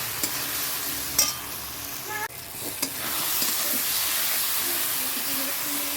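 Spice paste with a little dried chili powder is sautéed in a pan, a continuous close sizzle with scraping stirs and a few clinks of the spoon.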